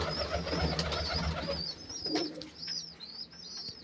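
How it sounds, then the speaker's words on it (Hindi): Pigeons coo from mud nest boxes on a rooftop loft: soft, low cooing with a few higher chirps and a brief flutter, close by and without any voices. "देखिए जोड़े वाले कबूतर इनके पास कुछ नीचे बैठे हुए हैं।"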